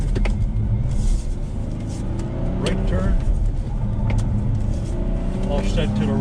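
A 2020 Ford Explorer Police Interceptor Hybrid accelerates and turns, its engine rumbling steadily with road and tire noise, while people talk over it inside the cabin.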